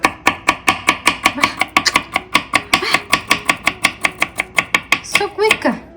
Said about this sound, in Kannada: ಎದಕ್ಕೆ ಹೆಚ್ಚುತ್ತಾ ಇದೀವಿ ಇದು?